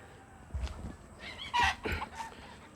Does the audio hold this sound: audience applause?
no